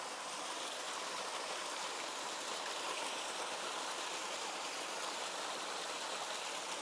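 A stream flows steadily along a creek channel during application of a biological blackfly treatment from a calibrated watering can, producing a constant broadband rushing and gurgling of water that stays even and unbroken throughout.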